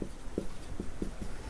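A pen scratches across a notebook page in a few brief strokes, heard close and soft in a quiet room.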